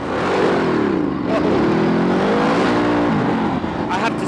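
A Ducati DesertX motorcycle engine under way, a loud continuous drone with rising and falling pitch as the rider changes speed, plus wind rush.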